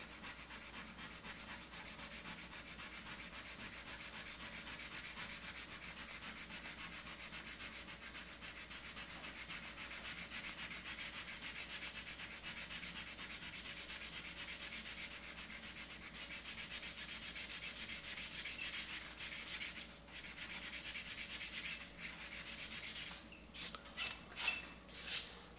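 An eraser rubs steadily over airbrushed paint on a surface in a continuous, close scratchy rasp that lasts a long stretch, ending with a few sharper scrubbing strokes.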